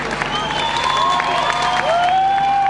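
Audience applause and crowd noise greet performers arriving on stage, a steady dense wash of clapping with cheering over it, while a voice with a sustained tone rises above the crowd.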